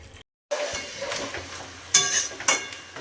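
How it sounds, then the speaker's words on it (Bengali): Cabbage curry with a fish head cooks in a pan, giving a soft steady sizzle with a couple of sharp metallic clinks of a spoon stirring against the pan, close and quiet after a brief silence. "এখানে হচ্ছে বাঁধাকপির তরকারি বসালাম মাছের মাথা দিয়ে"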